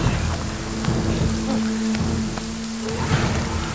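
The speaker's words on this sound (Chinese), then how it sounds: "下雨了" Steady rain pattering on surfaces, with low thunder rumbling beneath, continuous and fairly loud, with no voices.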